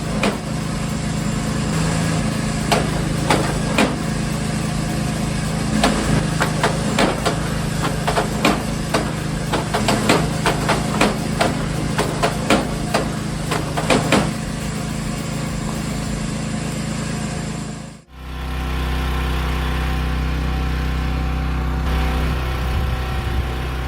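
A small engine-driven log splitter by a dirt path hums loudly and steadily as a 14-inch log is split in two, with sharp cracks and knocks from the wood over the drone before the engine note abruptly changes near the end.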